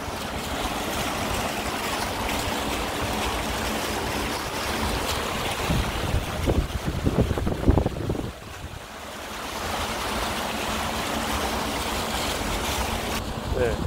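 Wind blows across Tutugyr Square, an open public square in Atyrau, a steady broadband rushing with a few louder gusty surges midway before settling back to an even roar.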